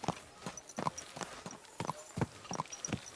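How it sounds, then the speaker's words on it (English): Horse hooves clip-clop on the ground in the video game Kingdom Come Deliverance 2, an even walking rhythm of soft, faint steps against quiet background ambience. "Watch out with that horse!"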